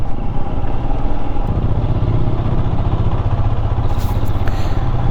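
A Royal Enfield Himalayan motorcycle's single-cylinder engine thumps steadily while riding on a monsoon road, a loud close low throb with rhythmic pulsing and rushing wind, no voices over it.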